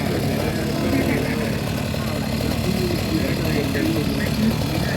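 A Kubota remote-controlled lawn mower engine idling steadily, a continuous medium-pitched drone close by with people talking over it.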